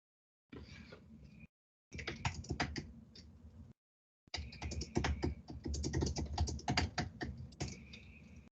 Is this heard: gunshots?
no